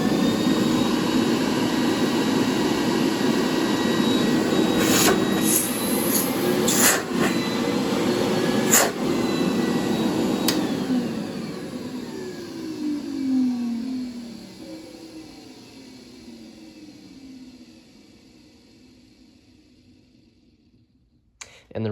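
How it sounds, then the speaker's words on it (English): Dustcare 3000 Quiet Series central vacuum running with a steady whoosh and hum, a few sharp clicks partway through, then winding down and fading almost to silence before a brief final noise. "there's my Dustcare 3000 for you. I'll let you hear it one more time."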